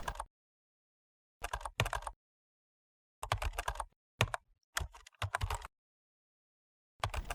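Short bursts of typing on a computer keyboard, quick clusters of crisp key clicks separated by silent pauses, close and fairly quiet, with no talk.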